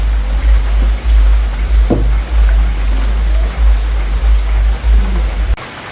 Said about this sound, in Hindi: हर तरफ बारिश हो रही है